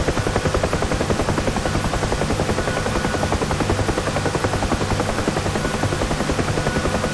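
A UH-1 Huey helicopter in the DCS World flight simulator drones steadily throughout, its rotor beating in a fast, even thump over a loud, constant engine roar with no pauses.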